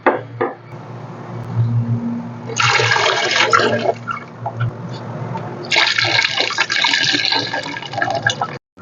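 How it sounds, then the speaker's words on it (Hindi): Meat stock (yakhni) poured into a pot of beef pulao on the stove, two loud rushing pours of liquid splashing in, separated by quieter bubbling and clatter. "अब मैंने इसकी फ्लेम हाई कर दी है, यखनी ऐड कर दिया।"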